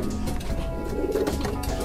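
Racing pigeons, including a Dutch import, coo in a homing pigeon loft, giving low, rolling, repeated calls close by with no talk over them.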